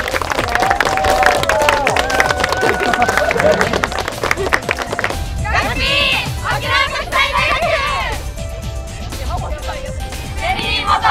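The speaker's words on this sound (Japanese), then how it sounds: "はい、拍手。" A small group at a hot outdoor photo shoot claps in a quick, scattered burst at close range, mixed with loud excited voices and chatter over the applause.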